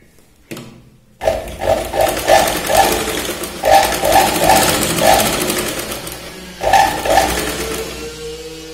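Sewing machine stitching a blouse's main fabric to its lining in loud, rapid bursts of needle clatter separated by short pauses, close up, with no talking.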